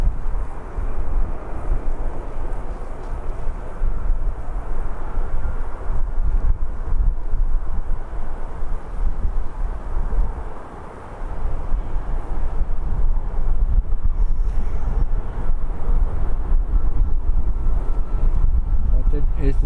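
A TUI airliner roaring down the runway at speed, a loud, steady engine rumble with wind buffeting the microphone, heard from a distance and sustained throughout.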